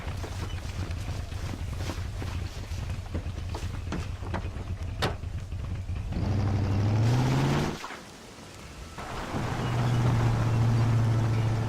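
An old car engine from the Red Dead Redemption video game drives along: a steady low rumble that rises and swells, dips briefly, then climbs again, with wind-like noise over it and no talking.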